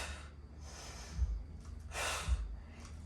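Slow breathing during a hip thrust exercise at home, a soft inhale followed by a stronger audible exhale through the nose and mouth, close and quiet, with no talking.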